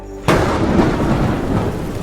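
A sudden loud crack of thunder breaks over steady heavy rain, then rolls on with a dense rumbling hiss of downpour, close and loud, with no talking.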